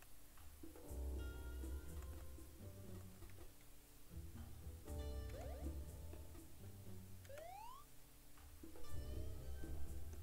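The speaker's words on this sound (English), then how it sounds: "How is it raining? Oh, wait, it's dripping from the roof." Game rain drips from a roof in a cat wilderness survival game, a faint steady patter of drops mixed with soft game music tones and occasional chirps, no voices.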